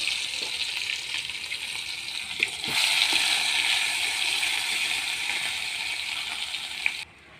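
Onion and garlic fry in hot oil for a hilsa and pumpkin curry, a close, steady sizzle that swells louder partway through, with a few light clicks of stirring.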